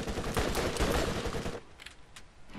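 Rapid submachine gun bursts in the Borderlands video game, a dense loud stream of shots for about a second and a half, then a few scattered single shots further off.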